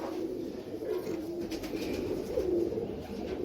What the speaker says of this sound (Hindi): ये एक नंबर लाल परी कबूतर है